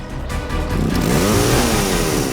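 A motorcycle engine revs up hard and close, its rising harmonic whine building over a steady loud rumble and holding through the end without any talk.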